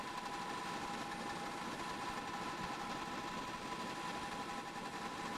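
A train engine runs through a tunnel in Train Simulator 20, giving a steady, dense roar with a high whining hum, constant and unbroken throughout, with no voices.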